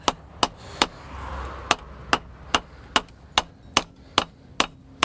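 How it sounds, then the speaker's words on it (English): Metal hammer blows ring out on the edge of an Iron Age axe as it is forged, sharp strikes landing in a steady rhythm, about a dozen in quick succession, close and clear. "Now you're hammering the very edge to put the edge on"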